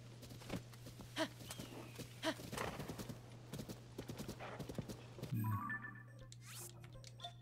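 A horse ridden in Zelda: Tears of the Kingdom clip-clops at a steady trotting rhythm, the hoofbeats close and fairly clear, with a brief whinny near the end.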